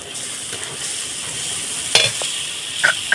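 Ground coriander, cumin and pepper sizzle in hot oil with cooked-down spices for a muri ghonto dish, a steady close frying hiss broken by a few sharp stirring clicks and scrapes, with no talk.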